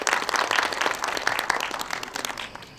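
Brief burst of audience applause at an association general meeting in a hall, many hands clapping fairly close, fading out after about three seconds.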